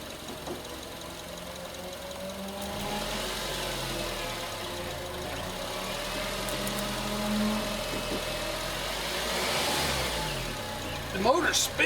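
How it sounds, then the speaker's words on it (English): A 1967 International Scout 800 engine idles roughly, then its revs rise and fall in a couple of gentle swells before settling, heard up close. "Sit in there and give that some revs, will you? Not a lot, just bring them up a little."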